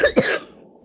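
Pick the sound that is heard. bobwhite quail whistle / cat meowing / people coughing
people coughing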